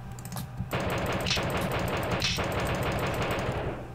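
Rapid gunfire in the Oregon Trail 2 computer game during a hunt, a dense continuous burst of loud shots filling nearly the whole stretch, with brief gaps near the start.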